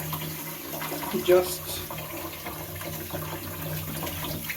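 Running water rinses a reusable K&N air filter on a second wash, a continuous faint splash and trickle with a brief louder gush partway through, under a quiet spoken word.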